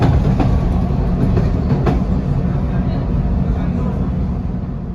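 CTA Orange Line elevated train rolling along its tracks near the Midway yard, a steady low rumble with a few sharp wheel clicks, heard from aboard under a narrating voice.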